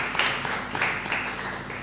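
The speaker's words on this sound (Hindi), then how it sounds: "तालियां बजा जा सकते हैं आप लोग" A church congregation claps in brief applause after a preacher's call, a soft, scattered patter with no voices over it.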